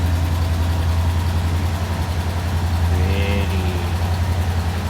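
A 1966 Ford Galaxie with a 7 litre engine idles steadily after a cold start, a loud, deep and even rumble with no breaks, close to the microphone, with a faint voice briefly underneath.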